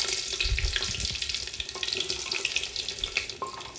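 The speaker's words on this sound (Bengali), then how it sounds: "পেঁয়াজটাকে আমি একটু ভেজে নেব।" Chopped onions, three medium ones, frying with whole garam masala in a pan over a low-to-medium gas flame, giving a steady close sizzle with occasional stirring scrapes and clinks.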